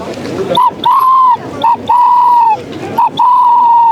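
A voice imitates a turtle dove's call with soft, steady coos: short notes, each followed by a longer sustained one, repeated three times at an even pace, at a medieval fantasy festival in Toulouse.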